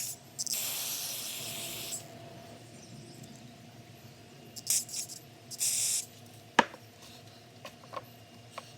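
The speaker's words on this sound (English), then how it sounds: "So let's go through here and hit it with some carb spray" Carb spray hisses onto the carburetor of a Honda HRC216HXA commercial lawnmower in short close bursts, a longer spray at the start and a few briefer ones later, with clicks and handling noise between.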